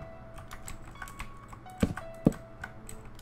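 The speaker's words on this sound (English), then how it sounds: "I hope my keyboard's gonna be really loud. I know it. I have a Razer Black Widow Ultimate" Keys clack on a loud Razer BlackWidow Ultimate mechanical keyboard in a steady scatter of close taps, with two heavier strokes standing out near the middle.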